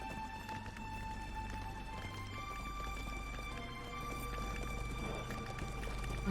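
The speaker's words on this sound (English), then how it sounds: "Grimbold, your horse is so slow." Horse hooves clip-clop in the Lord of the Rings Online video game, a steady running gait under game music and ambient tones, moderately quiet with no voices.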